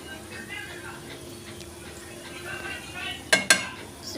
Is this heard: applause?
no